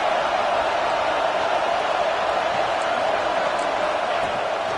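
A football stadium crowd roars on third down, a dense, constant, loud wash of massed cheering that never lets up, with a voice talking over it.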